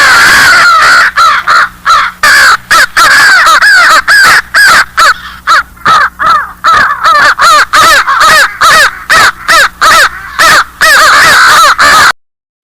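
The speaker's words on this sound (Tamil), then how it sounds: "காகம்." A crow caws loudly and repeatedly in a fast, steady series of harsh calls, close and alone, with no other sounds.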